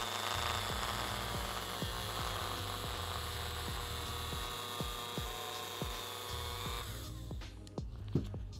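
A power tool spins steadily to polish a de-anodized aluminum part, giving a continuous whining hum with faint repeated ticks. The tone cuts off near the end and a few light clicks follow.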